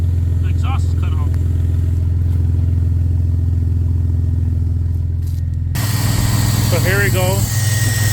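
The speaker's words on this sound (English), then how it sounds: "So obviously you can hear the exhaust is cut off." A BMW 330Ci with its exhaust cut off idles loud and close, a raw, rumbling drone with some clatter that holds steady throughout, while someone talks briefly over it near the start and again near the end.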